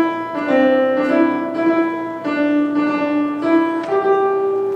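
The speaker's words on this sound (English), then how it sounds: "Or we can have rhythm that's called syncopated or dotted." Syncopated, dotted-rhythm melody from Ambroise Thomas' opera Hamlet, played as a series of detached, accented sustained notes in an uneven long-short pattern, loud and alone with no talking.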